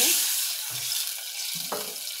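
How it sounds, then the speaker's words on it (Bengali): Water poured into a frying pan of fried onion and garlic: a steady close hiss of running water with a couple of low bumps from the pan. "এখন আমি একটু পানি দিয়ে দিব।"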